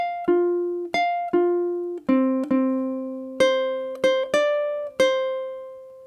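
Ukulele picks out two measures of a jazz tune, about a dozen bright plucked notes in a bouncy syncopated rhythm, each ringing briefly before the next, played alone and close without any voice.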